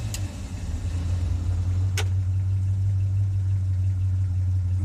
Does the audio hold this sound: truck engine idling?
yes